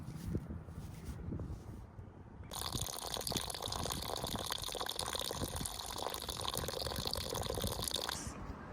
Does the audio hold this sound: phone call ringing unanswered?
no